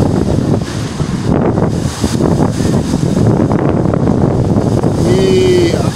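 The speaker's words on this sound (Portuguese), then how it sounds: "Lá na frente onde tem aquelas ondas, aquelas espumazinhas lá na frente, ali onde tem os arrecifes." Ocean surf breaking over the reefs offshore at Boa Viagem beach in Recife, a continuous rough wash buffeted by wind on the microphone, with a person talking throughout.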